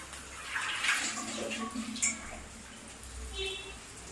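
A plate being rinsed under a running kitchen tap while cooking, with steady splashing water and a few louder bursts as it is handled, and a voice speaking over it.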